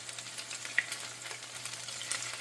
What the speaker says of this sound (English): we are going to flip them over so they can fry on the other side and finish them off